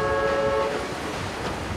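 Train rolling across the Dandong–Sinuiju railway bridge between China and North Korea, a sustained loud rumble with a steady tonal horn-like drone at the start that fades into continuous rail noise.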